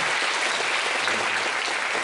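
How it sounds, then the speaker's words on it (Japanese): Dense, steady applause fills a hall as an audience at the YAPC::Asia Tokyo 2013 opening claps for the event's sponsors, loud and continuous with no pauses. "拍手。"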